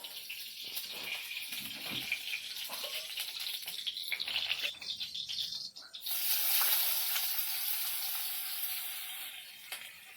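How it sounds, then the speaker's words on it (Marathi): Wild bharangi vegetable dropped into hot oil for a tempering, giving a steady broadband sizzle and hiss that swells louder and brighter about midway and keeps frying on its own with no talk. "तेल टाकते आणि भाजी घालते फोडणी"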